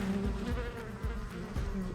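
Bees buzz steadily around a hive, a dense close drone with individual insects passing near, and no voices.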